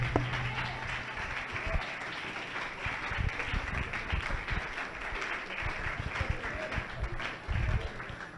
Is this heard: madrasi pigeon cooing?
no